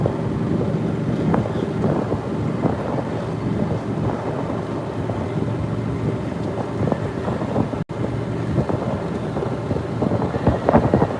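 Wind rushes past a golf cart moving at 23 mph on a ride toward a Florida sunset in The Villages. The buffeting is loud, steady and broadband, with one brief dropout near the end.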